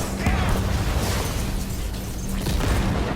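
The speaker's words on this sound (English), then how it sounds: "Just throw some grenades." Grenades blasting in the video game Cyberpunk 2077, a dense run of booming bursts and crackling debris that stays loud and continuous for several seconds, with no pause between detonations.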